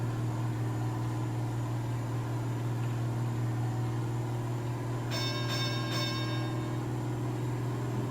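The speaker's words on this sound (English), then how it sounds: "You must be playing with one of the balls with the bells in it." A small toy ball with bells inside jingles in a short burst of a few shakes, over a steady low mechanical drone.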